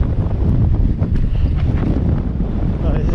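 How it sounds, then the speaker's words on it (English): Strong, gusty wind buffets the microphone on a remote Scottish island, a loud, continuous low roar that barely lets up through the whole stretch. "I'm trying to hide from this bloody wind"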